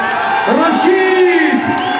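A festival crowd at the Bevrijdingsfestival in Wageningen applauds and cheers for a musician, a brief burst of clapping and whoops under a voice shouting over it.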